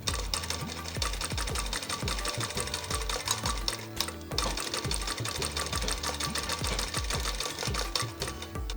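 A sewing machine runs in fast, even bursts while stitching a curved strip along the side of a kurti, its rapid mechanical clatter loud and close, pausing briefly midway before resuming.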